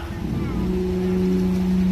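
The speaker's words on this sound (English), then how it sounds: "Just wait for this boat here to pass by before we jump in the lake here." A motorboat passes on a lake, heard from an amphibious duck boat waiting at the shore. Its engine drones steadily and grows slightly louder, with people talking over it.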